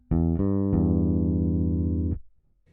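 Bass guitar notes plucked without muting so each one rings into the next, three attacks in quick succession followed by a long sustained tone that cuts off, clean and close with no voices.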